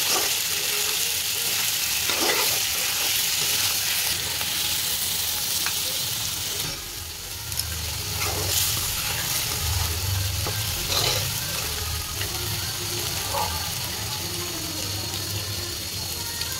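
Shrimp fry in a hot pan with jackfruit, giving a loud, constant sizzle close up, broken by occasional stirring scrapes and bubbling.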